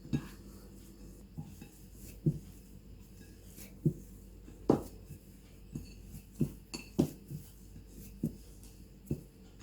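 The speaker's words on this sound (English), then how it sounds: "Now we will mix everything nicely and make it into a dough." Dough is mixed from flour and salt in a bowl, with a spoon or utensil repeatedly clinking and scraping against the bowl in irregular knocks over a quiet background.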